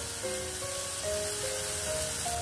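Ajwain seeds hitting hot oil while vegetables are sautéed for a mixed veg sabji, giving a steady close hiss and sizzle that continues evenly throughout, with no talking.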